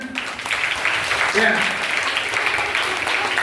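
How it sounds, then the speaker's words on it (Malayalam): Steady applause from an audience at a government upper primary school Onam gathering in Kallachi, with a faint voice briefly audible over the clapping. "നല്ല ഒരു കൈയടി കൊടുക്കുക"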